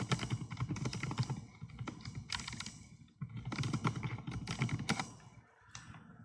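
Fast typing on a computer keyboard, close and dense, in bursts of rapid key clicks separated by a few brief pauses, with no talking.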